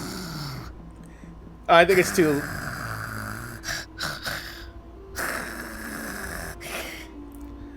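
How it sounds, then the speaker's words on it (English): Creatures snoring in the video game Genshin Impact, with loud snorts and rasping breaths in uneven bursts, mixed with a voice speaking briefly. "I know someone who snores like that, and they deny they snore like that."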